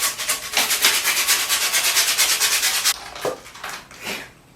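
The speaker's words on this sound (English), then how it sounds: "Where did I put my sandpaper?" Sandpaper rubbed rhythmically across a canvas being prepared for oil painting, close and steady back-and-forth strokes for about three seconds, then a few slower, separate passes that fade out.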